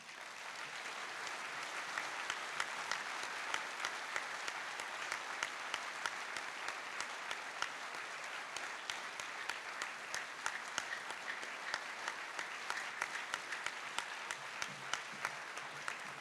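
An audience at a school speech day gives sustained, steady applause, a dense wash of many hands clapping throughout, fairly distant and even in level, with no talking over it.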